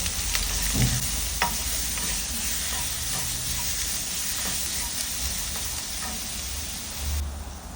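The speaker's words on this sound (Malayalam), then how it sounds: "എന്നിട്ട് ജിഞ്ചർ ഗാർലിക് പേസ്റ്റ് അതിലേക്ക് ഇടുക. അതിൻ്റെ പച്ചമണം മാറുന്നവരെ നന്നായിട്ട് മൂപ്പിക്കുക." Ginger garlic paste sautés in a hot pan for prawn rice. A continuous close sizzle runs throughout, broken by occasional spatula stirs and scrapes.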